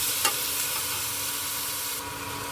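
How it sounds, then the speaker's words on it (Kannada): Tomatoes sautéing in a pan for spicy green pea kurma, a steady close hiss of frying with a single light clink near the start and no speech. "ಟೊಮೆಟೊನು ಒಂದು ಎರಡು ನಿಮಿಷ ಕಾಲ ಬಾಡಿಸ್ಕೊಳ್ಳೋಣ"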